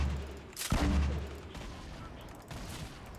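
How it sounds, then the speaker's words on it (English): Grenade launcher fire in Fortnite comes as a sharp, loud burst of explosive blasts that fades into a lower rumble, followed by fainter pops and crackles. "This might be an easy grenade launcher kill."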